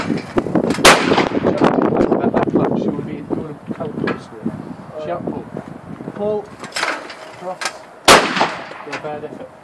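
Shotgun fired at clay pigeons outdoors, with two sharp, loud blasts several seconds apart amid wind noise and an instructor talking throughout.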